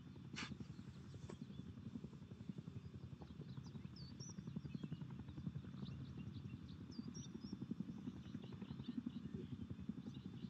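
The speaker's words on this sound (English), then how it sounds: "That helicopter's coming past." Helicopter passing by in the game Rust, heard as a faint, steady rhythmic rotor chop that lasts throughout.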